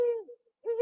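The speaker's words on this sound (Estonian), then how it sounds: "öökulli häält teeb" A tawny owl gives two clear, low hoots separated by a short silent pause, close and alone with no talking.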